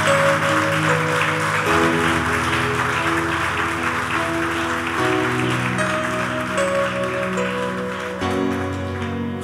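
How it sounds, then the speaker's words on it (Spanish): A church congregation claps hard in praise, a dense continuous wash of applause under sustained organ or keyboard chords, loud and steady throughout. "Dáselo fuerte, dale fuerte el aplauso al Señor."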